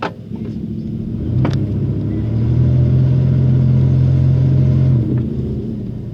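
A Chevy S10 off-road truck backs out on a trail, its engine rumbling close and loud and rising to a steady, sustained drone, with a sharp knock partway through.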